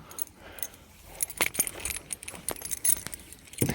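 Car keys jangle and clink in a loose, irregular run of bright metallic rattles, close and fairly loud, beside a Ford Escort XR3 whose boot has just been unlocked.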